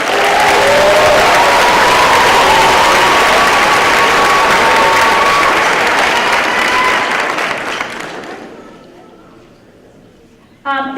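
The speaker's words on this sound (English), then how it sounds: "give them an extra round of applause" Audience at a middle school winter concert gives soloists an extra round of applause, loud sustained clapping with a voice audible over it, fading out toward the end before a short sound at the close.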